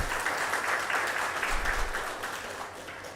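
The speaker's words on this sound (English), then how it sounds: "I thought this would receive some applause" Audience applause rises in a hall at the inauguration of a genomic medicine building, a thick, continuous wash of many people clapping at steady volume throughout.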